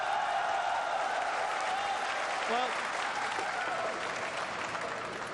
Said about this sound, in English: Now, big applause